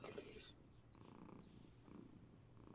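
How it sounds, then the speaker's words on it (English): A house cat purring on a person's lap indoors, a soft steady low rumble that runs quietly through the whole stretch after a brief louder burst at the start. "I hear a cat though."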